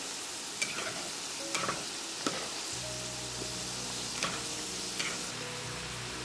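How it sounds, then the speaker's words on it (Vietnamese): Flour-coated peanuts fry in hot oil with a steady sizzle, while chopsticks stir them gently and tap the pan in occasional light clicks. "Dùng đũa đảo nhẹ để đậu phộng được chín đều ha. Mình chiên như thế này khoảng 5 phút."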